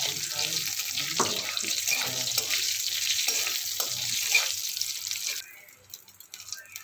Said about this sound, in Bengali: কড়াইয়ে তেল দিয়ে দেব, জিরা ফোড়ন দেব, শুকনো লঙ্কা, তেজপাতা ভালো করে ভেজে নেব।